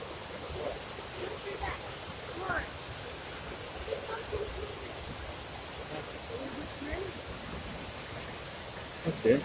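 Waterfalls at Indian Springs State Park rush in a steady broadband wash, with faint, brief voices occasionally rising above the constant roar of falling water.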